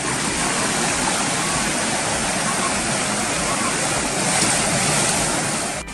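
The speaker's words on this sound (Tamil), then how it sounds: "மிளகு வாசத்துடன் ஆர்ப்பரித்து கொட்டும் அருவியில் நீராடுவது" A waterfall in Kodaikanal pours with a steady, loud, broadband rush that stays constant for about six seconds with no voices.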